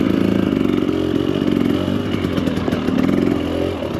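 Husqvarna TE300 Pro enduro motorcycle ridden off-road on muddy trail, engine droning loudly and continuously with rhythmic revving pulses and clattering, close to the microphone.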